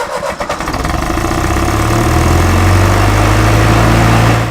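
A loud hydrogen-fuelled tractor engine starts with a few uneven chugs, then settles into a steady, deep running rumble close by.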